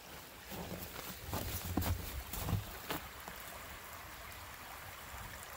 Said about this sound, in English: Sort of the Babbling Brook model.